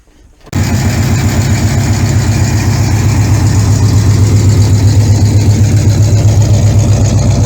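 A 1975 Pontiac Firebird V8 with no accelerator pump cranks and catches after a brief silence, then settles into a loud, close, steady idle with a throbbing low rumble that holds for several seconds with no talking.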